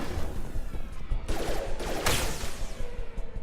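Gunfire crackles in Mass Effect 2, a rattling volley of shots that flares loudest around the middle, set against a steady rumbling background ambience.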